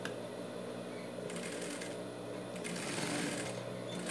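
A sewing machine runs close by in fast, even bursts while stitching a dog bandana, its rapid needle chatter pausing briefly between runs.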